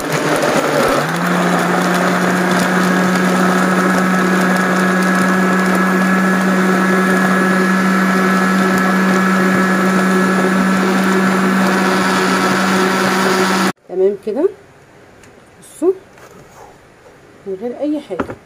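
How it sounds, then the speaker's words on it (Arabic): A blender crushing ice and watermelon runs loud and steady with a grinding, whirring motor for about fourteen seconds, then cuts off, leaving a few clinks and soft handling noises. "ونبتدي نخلط كل الحاجات دي كده في الخلاط بدون اضافه اي حاجه تانية."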